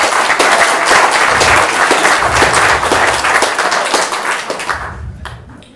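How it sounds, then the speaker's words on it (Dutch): A room at a book presentation breaks into dense clapping for a culture-prize winner; the applause stays loud and steady, then thins and fades out over the last second. "een groot applaus van Jan"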